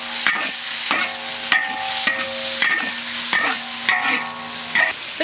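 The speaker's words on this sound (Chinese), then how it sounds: "给它炒" Chicken giblets are stir-fried in a wok with salt and light soy sauce, the spatula scraping and ringing against the metal in regular strokes over a continuous sizzle.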